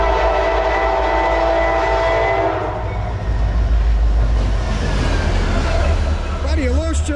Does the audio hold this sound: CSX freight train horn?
yes